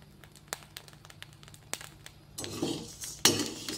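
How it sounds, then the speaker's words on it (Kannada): Rice grains pop and crackle one by one as they roast in a hot pan for a GSB style sweet; sparse small clicks and crackles come close up, then grow into denser, louder sizzling bursts. "ಚಟಪಟ ಚಟಪಟ ಹೇಳ್ತಾ ಇದೆ ನೋಡಿ. ಒಂದೊಂದೇ ಅಕ್ಕಿ ಅರಳ್ತಾ ಇದೆ."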